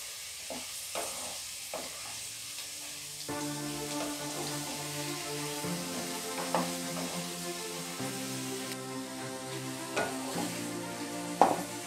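Pirandai (adamant creeper) sautés in a pan, giving a steady sizzle broken by frequent scraping stir strokes and sharper clicks of the spoon, with no one talking.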